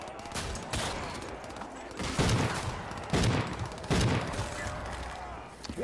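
Rapid sci-fi laser gun fire in a Black Ops 3 Halloween custom zombies map, bursts of shots recurring over steady game noise and effects.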